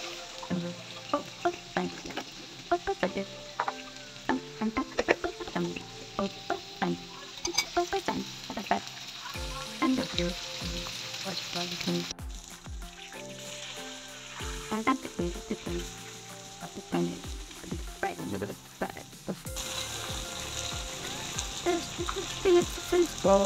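Sarputi fish frying in oil in a wok, a busy continuous sizzle with crackling pops and stirring clatter throughout, fairly close and loud, with a brief quieter stretch in the middle.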